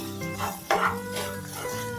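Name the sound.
stirring ingredients in a pan for bread upma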